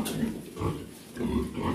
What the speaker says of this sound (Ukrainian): Сьогодні прийшла покормити свиноматочок зараз в обід